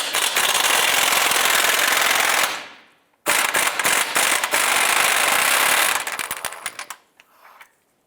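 A 15mm bolt comes off the front control arm of a 2011-2019 Ford Fiesta with a loud, rapid hammering rattle in a long burst, a short pause, then a second burst that sputters into brief stuttering taps before stopping.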